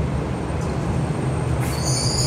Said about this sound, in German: Straßenbahn, die so tut, als wenn sie eine U-Bahn wäre